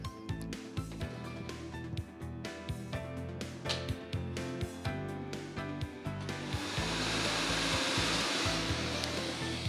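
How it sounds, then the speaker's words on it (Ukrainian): A Megalot lottery ball drawing machine starts up for draw number 1609: loud, dense rattling of balls with regular sharp clacks, then settling into a steady, louder whooshing churn with no talk. "Вмикаємо лототрон."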